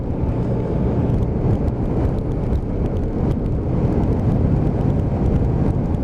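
A Honda Deauville motorcycle engine runs under way while riding, a loud, continuous low rumble blended with heavy wind rush over the microphone and steady throughout.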